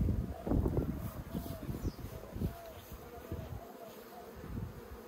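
Honey bees hum quietly around an open hive, a soft steady buzz with rustling and handling noises close by.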